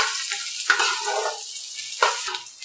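Sliced bitter gourd sizzles in hot oil in a pan, a close, steady frying hiss with two sharp spatter bursts as the pieces are stirred.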